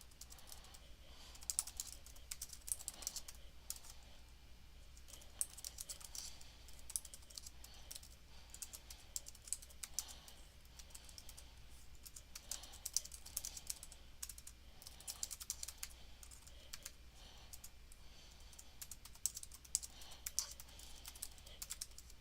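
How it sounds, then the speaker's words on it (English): Steady typing on a computer keyboard, close and fairly quiet, with rapid irregular clicks and brief pauses running throughout and no talk. "let's get back to business with typing this stuff out"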